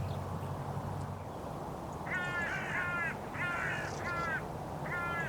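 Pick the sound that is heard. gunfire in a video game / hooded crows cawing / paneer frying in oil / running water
hooded crows cawing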